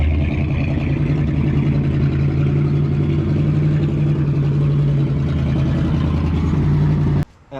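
A Ford 6.7 Powerstroke diesel truck engine on a leveled pickup running steadily, a loud droning idle with a constant low hum and clattering texture, cutting off abruptly near the end.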